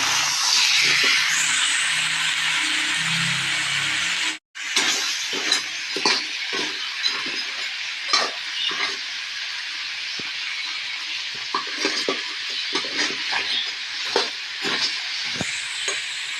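Small crabs, alimasag, dropped into a hot pan for adobo, giving a loud steady sizzle and hiss that briefly cuts out, then resumes with scattered pops and crackles of frying, no talk.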